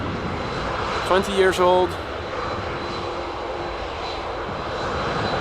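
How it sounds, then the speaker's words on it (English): Transavia Boeing 737-700 jet arriving at Amsterdam Schiphol from Pisa, a steady engine roar throughout with someone talking briefly over it near the start, moderately loud. "Got a Transavia coming in from the right, arriving from Pisa."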